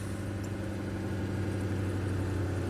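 A GM Duramax diesel truck engine with a limp-home fault idles close by, a steady low throbbing hum with an even, unchanging drone and no voices.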